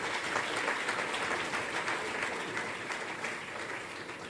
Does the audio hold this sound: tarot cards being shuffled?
no